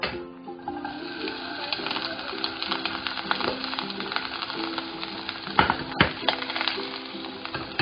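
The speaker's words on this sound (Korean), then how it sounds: "마늘을 볶아줍니다" Garlic sautéing in a stainless steel pan for a broccoli cream spaghetti gives a busy, crackling sizzle with occasional stirring knocks, over a steady tonal background.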